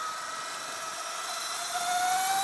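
A Sur Ron Light Bee electric motorbike fitted with a KO Moto swingarm is ridden, giving a steady electric whine over broad wind rush, its pitch rising and growing a little louder near the end.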